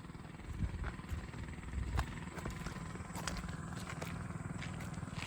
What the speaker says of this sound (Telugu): ఇప్పుడు డ్రోన్ ఎట్లా వస్తుంది చూడండి పైనుంచి.